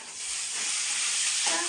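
Rice and potatoes boil in pots on a home stove, producing a steady, moderately faint hiss and bubbling like steam, with a light clink near the end.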